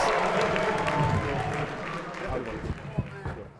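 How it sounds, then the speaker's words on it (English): A crowd at a basketball event makes noise with cheering and scattered clapping, a continuous moderate roar in a large arena while voices talk over it. "we're gonna need some noise from the crowd"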